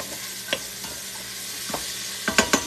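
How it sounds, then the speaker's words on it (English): Onions and garlic sauté in a pan with a steady, moderate sizzle, broken by a few scraping stirs that bunch together near the end, without talk. "we're just gonna let this saute a few minutes"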